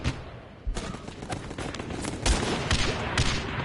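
Grenade launcher fire in a PS4 video game, a series of muffled thumps and blasts under a steady noisy backdrop, moderately loud and irregular, with no talk.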